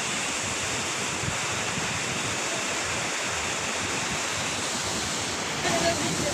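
Ditumabo Mother Falls in San Luis, Aurora, crashing down as a continuous, loud, broadband roar of falling water that stays steady throughout, with no clear voices above it.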